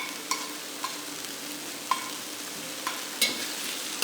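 Garlic frying softly in a pan ahead of asparagus, a faint steady sizzle broken by a few light spoon knocks and scrapes spaced across the stretch.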